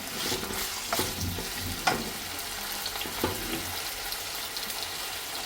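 Mixed vegetables including carrot sautéing in oil, a soft continuous sizzle with a few clattering stirs of a spoon against the pan, fairly faint and close.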